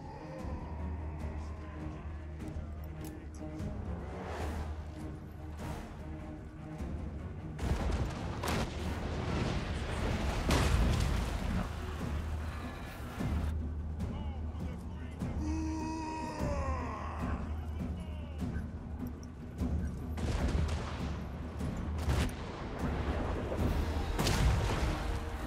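Cannons booming on a Total War: Warhammer battlefield during a dwarf campaign, several heavy distant blasts spread through a rumbling mix of gunfire and battle noise at moderate loudness.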